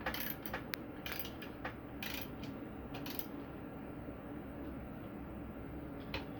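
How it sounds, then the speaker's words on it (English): A 7/16 wrench or socket tightens the bolts of a 7 tube case feeder for a Lock-N-Load press, producing soft, close ratcheting clicks and metallic ticks in short bursts, quieter toward the end. "you're going to grab a 7/16 wrench, your socket or a regular wrench, and then tighten these guys down."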